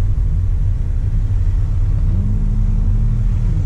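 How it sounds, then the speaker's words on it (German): A car engine in first gear pulls away during a driving lesson, a loud, close, steady low rumble that rises in pitch and grows slightly louder as it accelerates. "hörst du ja, dass der erste Gang so immer lauter wird"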